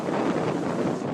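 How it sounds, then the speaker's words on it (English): Hurricane Irma's roaring wind gusts batter the microphone in downtown Miami, a dense, continuous rumbling rush with no pauses and no voices. "Roaring winds and heavy rain in the downtown area, turning streets into rivers."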